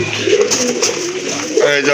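Pigeons coo in soft, throaty repeated calls, loud and close, from birds kept for sale with eggs and chicks, while someone talks over them.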